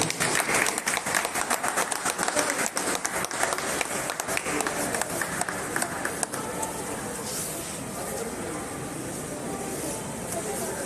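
Loud, sustained applause from a crowd at an award presentation during an event, dense clapping continuing throughout with a slight easing toward the end.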